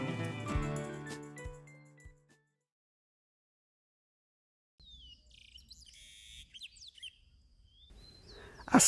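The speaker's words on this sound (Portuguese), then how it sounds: "Repare a infinidade de pássaros que lá habitam." Birds in a park in Lambari, Minas Gerais, chirp and tweet faintly in scattered short calls after a burst of music fades into a brief silence.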